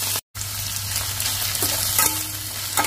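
Seasoning fries in hot oil for lemon rice, a loud close sizzle with scraping stirring strokes and a brief break near the start.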